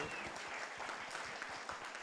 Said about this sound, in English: So another round of applause for Chef Lee.